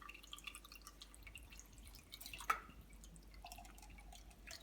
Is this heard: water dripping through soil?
yes